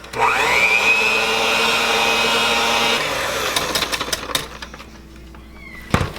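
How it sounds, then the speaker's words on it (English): Electric hand mixer whirring loudly at a steady pitch while blending cannoli trifle filling, running for about three seconds, then stopping, followed by clattering and scraping of the bowl. "I'm gonna go ahead and use the mixer to blend this all together."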